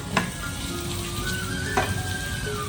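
Kashmiri chili hitting hot oil in a tadka tempering for palak paneer, giving a steady, close crackling sizzle that runs the whole time with a couple of sharper spits.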